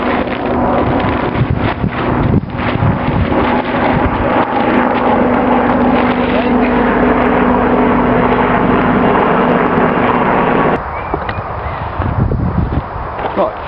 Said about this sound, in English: Now the helicopter's gone